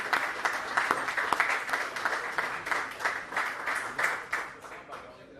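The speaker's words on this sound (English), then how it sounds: "a round of applause." A small group at a season-opening meeting gives a round of applause, a moderate patter of scattered claps lasting several seconds with no speech over it.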